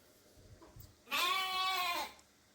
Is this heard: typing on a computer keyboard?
no